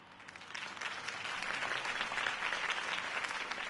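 Crowd applauds a campaign speech in a Batman video game, steady dense clapping that holds at an even level throughout.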